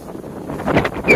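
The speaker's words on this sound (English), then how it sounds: "Wow. It's very, very windy now." Strong wind gusting outdoors on a nature walk, buffeting the microphone in a rising rush that peaks near the end.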